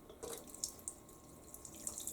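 Water fills a toilet bowl during cleaning with a bowl cleaner, a soft steady hiss of running water with faint splashes and drips, quiet and close, no voices.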